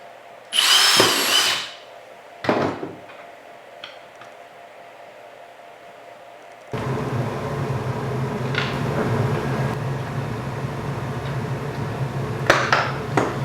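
A power drill with a 15/64-inch bit whirs in two short bursts, then runs steadily and loudly, grinding through a hard plastic case for several seconds.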